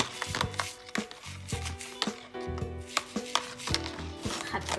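Silver being scrubbed to polish it, a run of sharp rhythmic scraping and knocking strokes, close and fairly loud, repeating several times a second.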